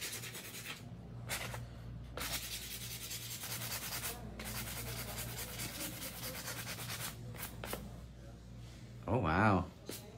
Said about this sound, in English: I just gotta buff it nicely and get it nice and smooth.